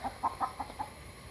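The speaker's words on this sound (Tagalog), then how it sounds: "Ang ingay mong manok ka." Chicken clucking in short bursts, about five rapid clucks in a row at moderate distance, noisy and insistent against faint background hiss.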